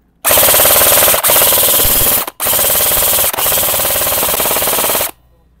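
A Lancer Tactical airsoft rifle fires on full auto in three long bursts separated by short gaps, a loud, rapid, buzzing clatter up close with nothing else heard.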